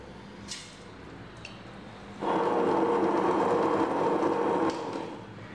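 A wet grinder churns kodo millet batter for idli, a steady broadband whirring that swells louder partway through and holds close and continuous, with a few faint clicks before it.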